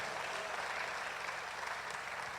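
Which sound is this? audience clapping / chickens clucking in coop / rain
audience clapping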